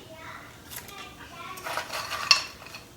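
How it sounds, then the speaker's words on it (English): Crushed ice is scooped into a mojito glass in soft crunching scrapes, ending in a sharp clink of glass, with faint voices in the background. "Some crushed ice, little more."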